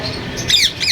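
White ring-necked parakeet at a Sunday bird market in Bahawalpur giving two sharp, loud, close squawks about half a second apart over a faint background hum.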